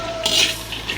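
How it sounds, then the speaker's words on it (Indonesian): Cashew nuts dry-roasted and stirred in a pan for cookie dough: a quick scraping, rattling stir of nuts against metal with a light clink, close and loud, no talking. "kita gongseng dulu ya kacang medenya"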